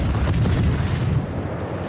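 A heavy broadside from warship guns in World of Warships, a loud booming roar that swells and then trails off, heard alone.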